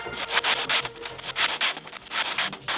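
Sandpaper rasps against snowboard pants fabric in quick, rhythmic back-and-forth strokes, a close, scratchy scrubbing with no voices.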